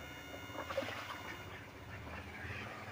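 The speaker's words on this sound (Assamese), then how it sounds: "এইকেইটাই আমাৰ হাঁহকেইটা হৈছে" Domestic ducks bathing in water and quacking, soft scattered calls heard faintly from a little distance over a low watery background, with no talking.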